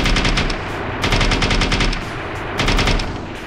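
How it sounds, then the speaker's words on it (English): Tank machine gun in an Unreal Engine 5 game fires in loud, rapid automatic bursts, with three sharp volleys spaced across a steady drone of gunfire and no voices. "also we have external machine gun here"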